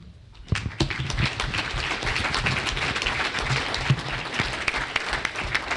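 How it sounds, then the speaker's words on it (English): Applause at a Rotary club meeting after a Habitat for Humanity talk, clapping swelling quickly from a quiet start into steady, close, moderately loud crowd applause with sharp individual claps. "Oh, I thought that was applause for just that point."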